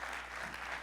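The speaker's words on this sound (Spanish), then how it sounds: "Denles aplauso al Señor." Steady, dense applause from a church congregation during a Sunday morning service, even and sustained throughout with no voices over it.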